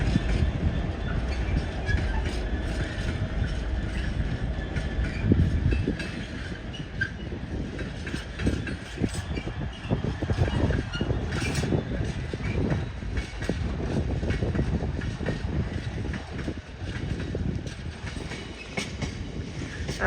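Ex-German locomotive-hauled train passing through Peterborough station on the East Coast Main Line, a sustained rumble with rhythmic clatter of wheels over rail joints, moderately loud and steady for twenty seconds without talk.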